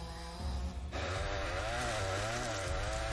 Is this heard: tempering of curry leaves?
no